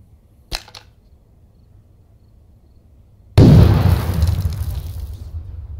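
A frag grenade in the game Thunder Tier One explodes after a short click near the start, bursting in one loud, deep boom with a rumbling, crackling tail that lingers for a couple of seconds.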